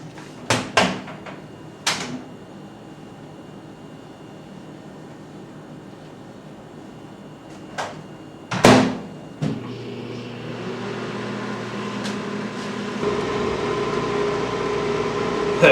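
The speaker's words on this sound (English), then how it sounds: "While that is cooking in the microwave behind me" A microwave oven heating food in a room: a few knocks and clunks from a door, then a steady, moderately loud hum with a fan-like whir that starts up and keeps running.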